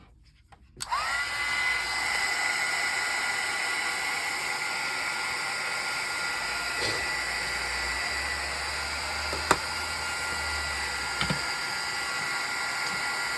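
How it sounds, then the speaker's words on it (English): A heat gun blows steadily for several seconds to dry paint on a papercraft project, a loud, continuous whooshing roar that starts abruptly and runs alone with a couple of faint clicks. "And I will bring out my heat gun. And we'll zap these real quick."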